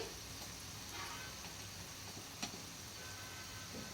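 Vegetable fried rice seasoned with chili powder, coriander powder, pepper and garam masala is stirred in a hot pan, giving a steady, faint sizzle with one brief scrape of the utensil.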